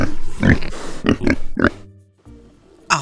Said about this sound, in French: Un cochon.